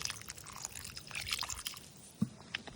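Water poured into a kazan over softened onion and carrot for plov, a soft, steady splashing hiss at low volume with one brief louder splash near the end.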